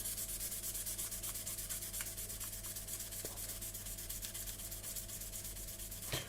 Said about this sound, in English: Gently rub it down and then just work your way through those sandpaper grades.